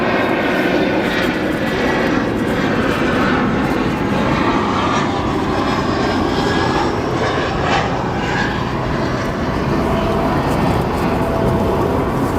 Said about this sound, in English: United Embraer 175 long range.